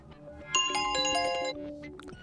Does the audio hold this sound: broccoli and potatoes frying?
no